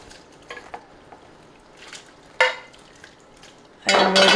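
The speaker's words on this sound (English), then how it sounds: "we're going to put our meat and sausage that we browned." Browned meat and sausage tipped into a pot of pork and beef chili, with scattered clinks and scrapes building to a loud, close burst of thudding and sizzling at the end.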